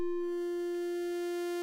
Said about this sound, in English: As you move the slider up and it goes to a triangle wave, it sounds like that.